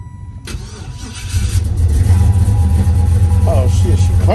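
A Chevrolet SS Impala starts up: a short starter crank, then the engine catches and settles into a loud, rumbling idle close by, with a person talking over it.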